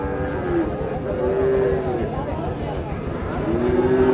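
Sahiwal cattle at a busy cattle market in Bogura, with several drawn-out, low moos rising above the constant murmur of crowd noise and voices.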